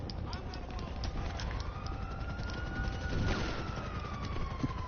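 A police car siren wails in a video game, a rising and falling tone moving through the scene over a dense rumbling mix of game noise, with a voice speaking over it.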